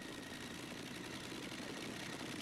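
Allison V12 engine in the pulling tractor Money Pitt at a tractor pulling event in Herning, a steady dense roar that holds at constant loudness throughout, broadband and far off, with no talk over it.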